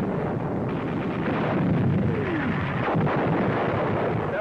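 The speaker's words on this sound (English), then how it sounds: "Direct hit on an enemy 88mm gun position." A shell makes a direct hit on an 88mm gun position during a 1942 North African tank battle. The result is a loud, sustained rumbling blast that roars continuously without any clear break.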